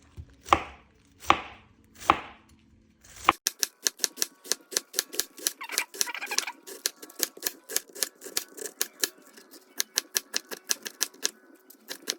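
A knife chops through cabbage on a cutting board, starting with three slow, heavy cuts, then switching to rapid, steady chopping strokes that continue close and clear, with no talking.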